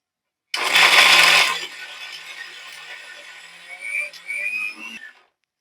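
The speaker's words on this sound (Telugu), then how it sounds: "దాన్ని మిక్సీలో ఏసి పాలు తీసుకున్నాం" A kitchen mixer grinder blends coconut into coconut milk, opening with a loud, harsh whirring burst that settles into a quieter, steady hum with thin whistling tones before cutting off.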